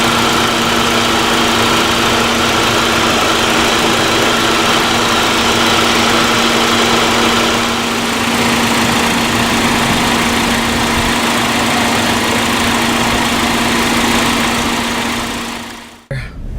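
The small 4-cylinder engine of a 2011 Hyundai Santa Fe with a 6-speed transmission hums in a loud, steady, continuous drone for about sixteen seconds before cutting off sharply at the end.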